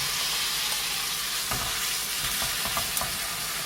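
Dakgalbi spicy chicken stir-frying in a new frying pan over medium heat, a steady close sizzle with a few soft scrapes and clicks of stirring, no talking.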